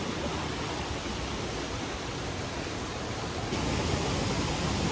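A strong waterfall current rushes nearby with a dense, steady roar of crashing water that fills the clip without pause.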